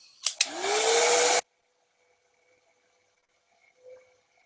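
A handheld dryer blows loudly on wet paint on a craft project, starting with a couple of clicks, holding a steady whooshing roar for about a second, then cutting off into near silence.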